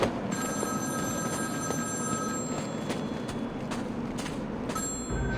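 A telephone rings with a steady electronic bell in the Batman: Arkham City video game, loud and continuous over a low ambient hum, with no speech.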